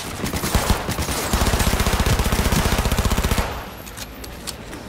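Rapid automatic gunfire from a Fenrir gun in the video game Cyberpunk 2077 rattles in a dense, loud burst that runs for about three seconds and then cuts off, leaving a faint ringing tail.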